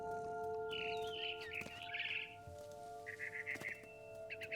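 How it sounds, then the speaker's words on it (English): A barn swallow chirps in the video game What Remains of Edith Finch: faint, quick twittering bursts come in short clusters over a steady low ambient hum and a few tonal game drones. "It was a barn swallow going back to her nest."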